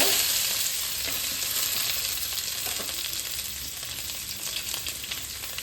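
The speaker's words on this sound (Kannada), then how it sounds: "ಈರುಳ್ಳಿ ಹಾಕಿ, ಈರುಳ್ಳಿ ಸ್ವಲ್ಪ ಕೆಂಪು ಬಣ್ಣಕ್ಕೆ ಸ್ವಲ್ಪ ಲೈಟಾಗಿ ಬ್ರೌನ್ ಕಲರ್ ಬರುವ ತನಕ ಸ್ವಲ್ಪ ಹುರಿಬೇಕು" Onions frying in hot oil for a mushroom curry, a dense steady sizzle up close that eases slightly over time, with a few faint spatula scrapes and no voices.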